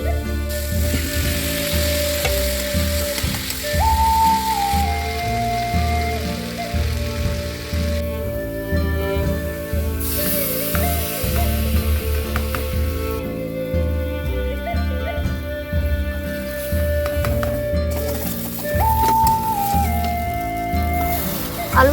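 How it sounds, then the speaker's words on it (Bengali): Potatoes fry and sizzle in a pan in a home kitchen, giving a steady, dense hiss that runs throughout beneath background music. "আলুটা কষানো আমার হয়ে গেছে"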